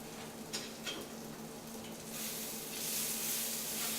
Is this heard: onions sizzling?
yes